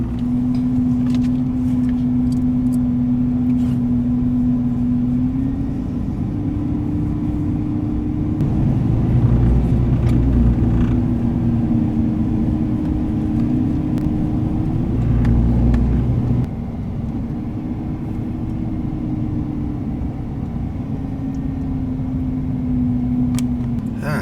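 A car drives slowly along a shaded road through a memorial garden in Little River, South Carolina, its steady engine hum and tyre rumble rising slightly mid-way, then settling, heard close from inside the vehicle with no talk.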